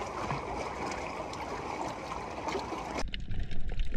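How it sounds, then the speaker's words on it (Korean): Sea waves wash and churn at a dive spot near Seopseom island, a steady close watery rush and trickle with no voices, shifting to lower, bubblier sounds in the final second. "이날은 파도가 조금 있었어요."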